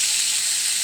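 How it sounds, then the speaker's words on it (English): Steak sears in a smoking-hot cast iron skillet, giving a steady, loud, close-up sizzle with an even bright hiss and no pauses. "And oh, listen to that sizzle."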